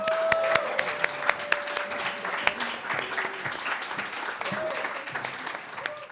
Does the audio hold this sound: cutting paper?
no